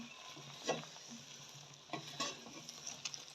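A Pakistani carrot dessert cooks in a pan and is stirred with a spoon, giving a soft, quiet sizzle broken by a few scraping strokes.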